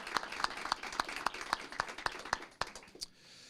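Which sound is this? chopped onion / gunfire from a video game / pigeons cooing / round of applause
round of applause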